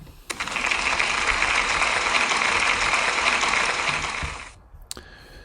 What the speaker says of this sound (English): Can we give Kailyn a big round of applause, please?